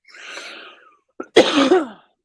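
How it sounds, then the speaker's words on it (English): A single person coughs once, a sharp harsh burst, after a breathy exhale; nearby and fairly loud with quiet around it. "I'm coughing"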